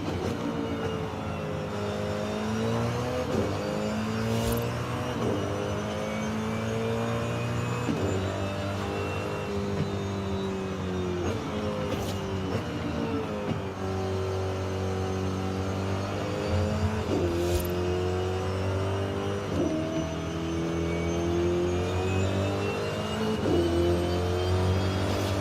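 A car engine in Forza Horizon 5 revs steadily and climbs in pitch, dropping back at each gear shift in a repeating cycle, loud and close throughout with no talking.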